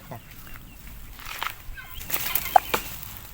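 Chickens being fed cassava scraps at a farm, with scattered clucks and soft calls along with a brief flutter of wings, close by and fairly quiet over faint background noise.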